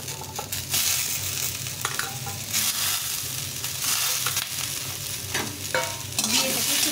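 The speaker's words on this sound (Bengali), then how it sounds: "দিয়ে এটাকে একটু ভেজে নেব" Malabar spinach seeds frying in a pan with beans and eggplant, an oily sizzle broken by repeated scraping stirs of a spatula, close and fairly loud.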